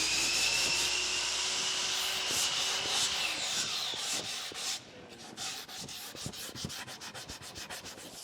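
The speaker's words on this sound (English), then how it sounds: "You gotta sand it off." A wood door casing is sanded by hand with steady, close rubbing strokes, a continuous gritty scratch that settles into a rhythmic back-and-forth in the second half.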